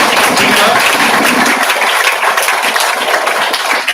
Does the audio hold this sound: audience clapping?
yes